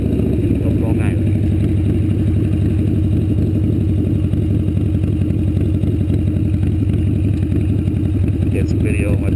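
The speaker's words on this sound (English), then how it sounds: "Get some video of my bike sitting here at the light." Harley-Davidson Dyna FXDP motorcycle idling at a traffic light, a loud steady low rumbling throb close by with faint traffic around it.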